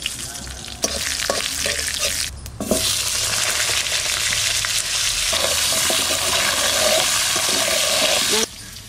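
Dried red chilli, bay leaf and cumin seeds tempering in hot oil, heard as a loud, steady crackling sizzle that keeps going throughout, with a few sharp pops and a brief dip early on.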